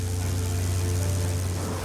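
A B-25 Mitchell's twin Wright 2600 radial engines, 1,700 horsepower each, idle while taxiing, producing a loud, steady low rumble that runs unbroken and close by with no voices.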